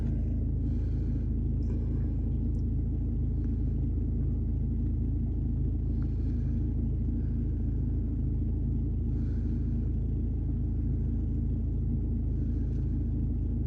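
Car air conditioning running during a diagnostics test on a vehicle, heard as a steady low mechanical rumble and hum that holds evenly throughout, with faint intermittent clicks above it and no talking.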